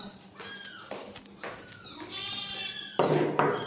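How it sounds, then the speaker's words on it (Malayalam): A cat meowing several times in a row, close by and clear, with drawn-out rising and falling calls. "ഒരു പൂച്ച."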